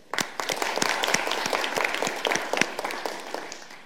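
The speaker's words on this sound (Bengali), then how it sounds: "সবাই জোরে তালি দিয়ে অভিনন্দন জানাই" Applause for the chief guest, a media personality, at a youth shadow parliament debate: sharp, distinct hand claps from a modest crowd, fairly close and crisp, swelling then tapering off over a few seconds.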